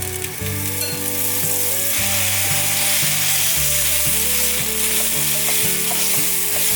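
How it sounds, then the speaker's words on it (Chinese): Marinated king oyster mushrooms searing in a dry pan over medium heat with no oil, a loud continuous sizzle and crackle throughout, with a low steady hum underneath. "不用放油，慢慢的煎。"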